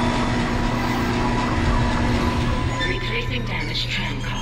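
A tram car rolling along its track in the video game Dead Space, a steady loud low rumble with rail clatter running throughout, joined by some higher mechanical whine and hiss toward the end.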